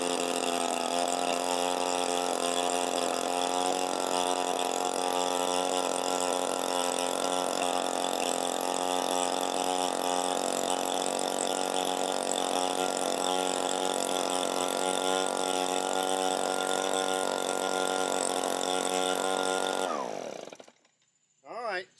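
An Echo PB 265L leaf blower runs on heavy choke, its small two-stroke engine holding a steady, buzzing high-revving drone. Near the end it sputters and cuts out abruptly.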